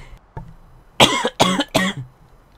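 Three hard, close coughs in quick succession follow a couple of small throat noises, loud and with no talking over them.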